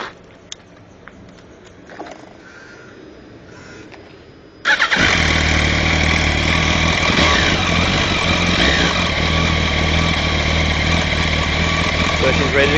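A Yamaha R1 sport motorcycle freshly fitted with a new clutch starts up partway through and settles into a loud, steady close-up idle after a quiet stretch.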